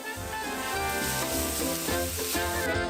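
Onion, bell peppers, chili peppers, garlic and bacon frying in a pan, a steady close sizzle with soft crackles and faint stirring, no voices.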